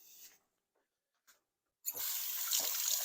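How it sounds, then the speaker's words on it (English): Running tap water splashes steadily over hands being washed at a camp sink, preceded by a few faint clicks and rustles before the flow starts and continues close and fairly quiet. "give me 1 second to wash my hands"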